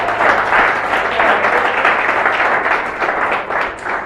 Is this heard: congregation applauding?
yes